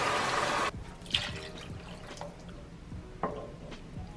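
Water is poured from a cup into a cooking pot for locrio de pollo: a brief loud rushing pour stops sharply, followed by scattered drips and light clinks in a quiet kitchen.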